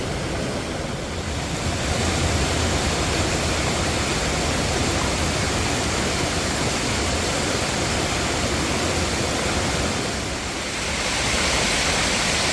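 A cleared creek flows smoothly, making a loud, continuous rushing roar that stays steady and close throughout, with only slight swells and no talk.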